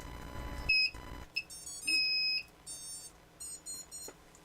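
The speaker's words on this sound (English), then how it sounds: "did you hear the beep?" A few short electronic startup beeps from a racing quadcopter's ESCs at different pitches, forming a quick little tune, sound close and clear over a quiet background with a brief whir at the start.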